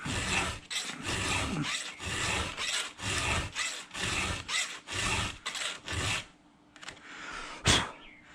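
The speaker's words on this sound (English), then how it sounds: "let me finish sharpening this" A Homelite Super XL12 chainsaw chain is touched up with a hand file in rapid, steady, rasping strokes, close and loud, about a dozen in quick succession before stopping, followed by a short quieter pause and a single sharp clack.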